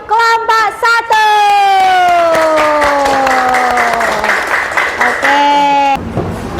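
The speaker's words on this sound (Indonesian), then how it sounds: "Tepuk tangan untuk kelompok 1." Students in a classroom clap for a group after its presentation, loud close applause topped by a long, drawn-out shouted cheer that slides down in pitch, followed by a brief second whoop.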